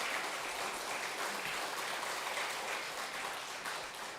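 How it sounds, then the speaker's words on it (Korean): Audience clapping for a guest pastor at a Bible seminar in a church hall, a sustained wash of applause that stays even and then eases slightly toward the end. "우리 큰 은혜 끼쳐 주신 우리 강사 목사님을 위해서 다시 한번 박수 보내주시면"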